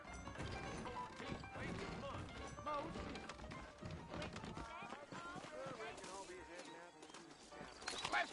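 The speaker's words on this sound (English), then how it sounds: "I got the horses saddled up and ready out front" Saddled horses' hooves clip-clopping in a Red Dead Redemption game scene, a steady rhythm of hoof knocks under background music and occasional voices.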